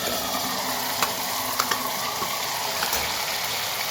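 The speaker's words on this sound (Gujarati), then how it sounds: "મસાલામાં સાથે આપણે ટામેટાની પેસ્ટ પણ એડ કરી દઈએ." Dabeli masala and tomato paste fry in hot oil in a pan, giving a steady close sizzle with light stirring scrapes and occasional soft clicks throughout, and no one speaks.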